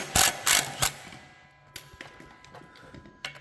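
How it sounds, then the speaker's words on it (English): Ratchet wrench backing off a bolt on a John Deere 2510H anhydrous applicator, three loud close clicks in quick succession, then quieter scattered metallic ticks and clatter. "Okay, now we need to back off this bolt."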